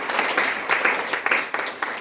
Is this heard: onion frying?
no